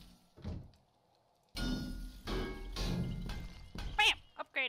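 A wall block being upgraded in 7 Days to Die, heard as a few heavy, close thunks and knocks in uneven succession, ending in a short squeaky burst. No talk is heard.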